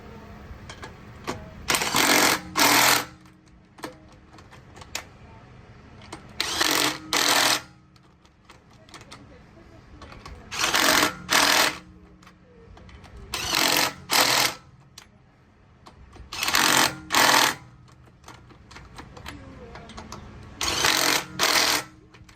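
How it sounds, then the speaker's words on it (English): A power tool tightens the wheel lug nuts on a 2022 Toyota Tundra SR5 4WD during a rear brake job, giving loud, close, rattling bursts, usually in pairs, that repeat with short pauses between them. "we're gonna use our power tool to tighten all these down"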